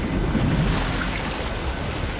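Water drains away in Uncharted 2, a steady rushing, washing wash like surf with wind-like hiss, moderately loud and continuous with no speech over it.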